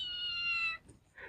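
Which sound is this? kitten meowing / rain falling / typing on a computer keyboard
kitten meowing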